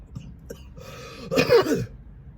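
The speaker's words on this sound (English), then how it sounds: "You see, I'm coughing." A few short, harsh coughs with throat clearing, close to the microphone, the loudest burst coming near the end.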